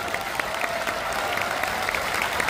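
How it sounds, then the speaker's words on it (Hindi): Dense, sustained applause from a large audience at an ex-servicemen rally in Uttarakhand, steady clapping filling the whole stretch with no speech over it. "आपको एक ताली बहुत जोर से बजानी पड़ेगी"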